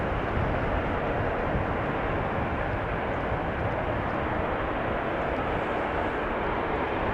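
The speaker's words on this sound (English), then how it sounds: "That seems like another Embraer from KLM." A KLM Embraer jet arriving at Amsterdam Schiphol in windy weather gives a steady, loud, broadband roar of engines and rushing air, sustained throughout without talk.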